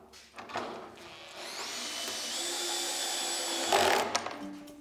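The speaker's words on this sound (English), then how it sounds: "And every drill is different, so you just got to play around and clutch it differently so that you just get it, make that first contact" A handheld power drill drives screws into Nudura insulated concrete form panels, a steady close motor whine that rises in pitch as it spins up and ends with a brief clatter, with no talking.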